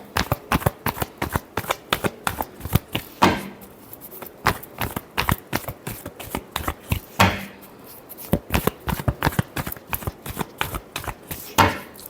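Tarot cards being shuffled by hand in repeated quick riffling bursts of crisp papery snaps, close to the microphone, with brief pauses between rounds.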